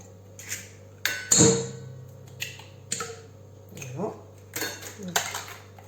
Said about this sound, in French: Donc je casse mes 6 œufs.